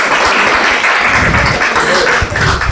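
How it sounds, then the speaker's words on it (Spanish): A church audience at a charismatic renewal gathering claps for a few seconds, a loud, close, dense patter that swells and dips slightly without pause. "dese un fuerte aplauso"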